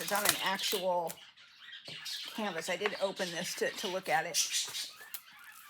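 Pet birds squawk and cluck in the background, faint but frequent under a woman's steady close speech throughout.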